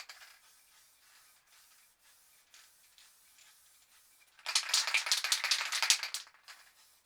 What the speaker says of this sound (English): I'm just going to spray it here at the bottom.